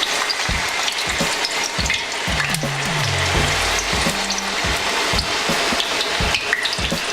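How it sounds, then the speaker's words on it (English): Green plantains fry in hot oil with a steady crackling sizzle, with clicks and knocks of utensils and a short hum partway through. "We're going to place the plantains"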